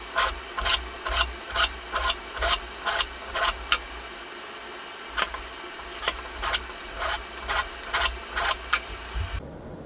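A blade scrapes repeatedly along a fret slot in a wooden fretboard, cleaning out dust and dried glue: about twenty short, dry rasping strokes in a steady back-and-forth rhythm, close and fairly loud, with no talking.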